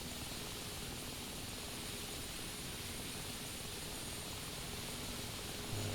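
Mi-8 helicopter right engine spooling up during start in DCS, a steady broadband turbine whine and rumble with a faint low hum, constant and unbroken, no voices.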